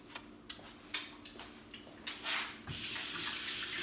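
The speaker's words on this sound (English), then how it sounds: "Wash my hand." Hands are washed under a running kitchen tap: a few light clicks and splashes, then a steady rush of water that grows fuller toward the end.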